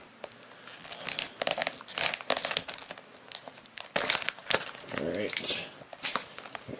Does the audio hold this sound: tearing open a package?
yes